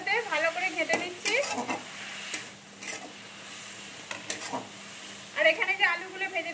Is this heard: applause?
no